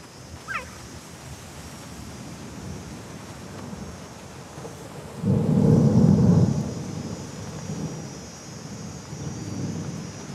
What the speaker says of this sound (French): Un orage approche.